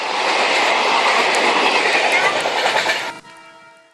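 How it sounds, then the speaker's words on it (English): A freight train rolls past with a loud, continuous roar and clickety-clack wheel noise. It ends abruptly, leaving a fading tonal hum. "scary freight train"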